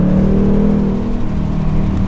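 A 2018 Ford Mustang GT Performance Pack with a 460-horsepower V8 accelerates hard, its close, loud engine drone rising steadily in pitch with a deep rumble underneath and no talk.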